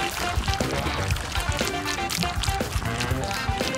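Hot pink chocolate pours over a chocolate sphere, a continuous wet pouring and trickling sound with dense, bright splashy texture, close and fairly loud throughout.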